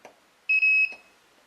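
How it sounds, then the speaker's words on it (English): A motion detector for a security system gives a short electronic beep confirming it was programmed, a clear high tone lasting under half a second with a faint click before and after, close and alone. "It sounded the beeps indicating it was programmed successfully"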